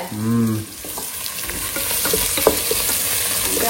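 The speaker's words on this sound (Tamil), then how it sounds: "ஆனியன் சேர்த்துட்டு ஆனியன் நல்லா வதங்கணும்" Onions sautéing in a pan for mutton biryani give a steady sizzle with scraping stirs throughout, and a short tonal hum opens the sound.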